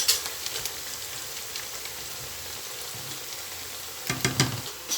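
Steady crackling sizzle of minced meat and garlic frying in a pan, with a few louder stirring scrapes near the end.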